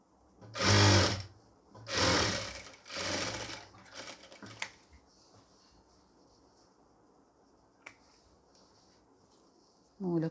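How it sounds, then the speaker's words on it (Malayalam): Stitching a pleated nightie, a sewing machine runs in three loud, close bursts of about a second each, separated by brief pauses. Quieter handling noise and a couple of sharp clicks follow. "ഈ അറ്റത്തേക്ക് കൈക്കൊടി അറ്റം വരെ നമുക്കൊന്ന് സ്റ്റിച്ച് ചെയ്ത് കൊടുക്കാം"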